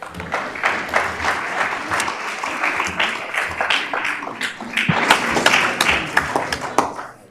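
Board of Education meeting audience claps after a presentation, a fairly sparse crowd with distinct individual hand claps over a steady patter, swelling slightly louder near the end before tapering off.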